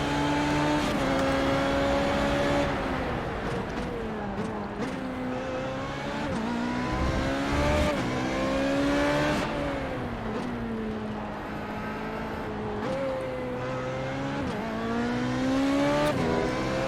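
Formula Renault 3.5 race car engine in an iRacing simulation at the Hungaroring, droning loudly and continuously with rising and falling revs and several gear shifts, no talk.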